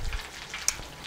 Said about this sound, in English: we're going to take our chicken pieces and we're going to gently put them in the oil